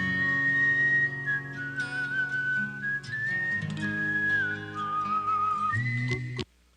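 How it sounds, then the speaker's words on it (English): A montage of well-known whistling songs: a clear melodic whistle carries each tune over musical backing, cutting between pieces before ending abruptly. "Rolling Stones put together a list of the best whistling songs of all time"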